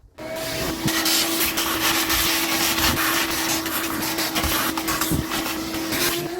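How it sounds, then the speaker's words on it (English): A shop vacuum roars loudly and steadily up close, sucking loose carbon buildup out of the engine of a Dodge conversion van during a cylinder head replacement, with a steady whine and occasional rattles of debris and no talking. "Let me get the vacuum over on this side. There's some loose stuff we need to suck up."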